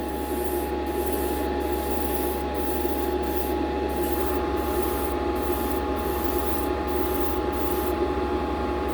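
Airbrush spraying air and paint onto a model, a steady close hiss running without a break alongside a low compressor hum.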